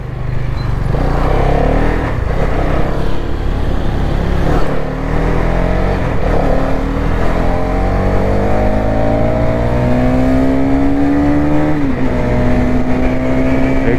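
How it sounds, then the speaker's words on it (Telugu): An XMR210, a 210cc motorcycle, out on the road with its exhaust droning loud and steady throughout; the engine note climbs in pitch as the rider speeds up, dips briefly, then rises again. "exhaust note"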